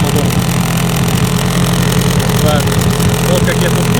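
Small Chinese-made outboard boat motor running steadily at idle, a continuous close engine drone with water splashing, under a voice talking.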